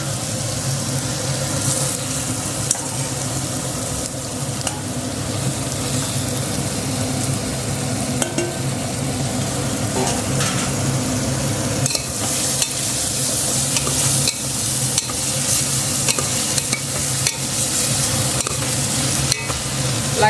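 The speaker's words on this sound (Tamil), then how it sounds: "அதில் சிக்கன் பாருங்கள் மேரினேட் பண்ணி வச்சுருக்கேன் அதையும் போட்டு வதக்கிடலாம்" Marinated chicken sautéing in a hot pan for biryani, with a loud, continuous sizzle and steady stirring scrapes close up, and no talking.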